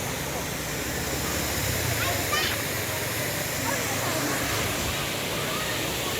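Salisip Falls roars in a steady, dense wash of falling water, loud and unbroken throughout, with voices faintly mixed into the rush.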